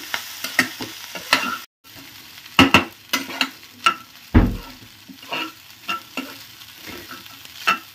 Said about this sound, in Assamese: চিৰাখিনি দি খুব ভালকৈ লৰাই চিৰাখিনি অলপ সময় ভাজিম